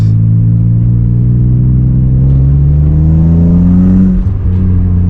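A 1997 BMW M3 accelerates on a road, its engine note a loud, steady rising drone heard from inside the car, easing slightly near the end, with no talk.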